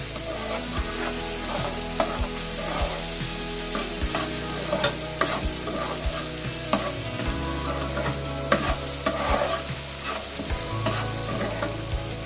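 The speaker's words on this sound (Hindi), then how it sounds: "अदरक और लहसुन का पेस्ट 1 चम्मच लिया हमने। इसको ब्राउन करेंगे हल्की आंच पर।" One spoon of ginger garlic paste frying on low heat for a beef liver masala, a steady close sizzle with a spoon stirring and scraping the pan, no voices.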